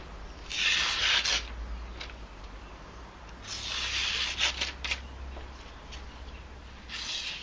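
A knife blade being sharpened on a coarse-grit sharpening stone to form a convex edge: three separate hissing, rasping strokes, close and fairly quiet, with short pauses between them and nobody speaking.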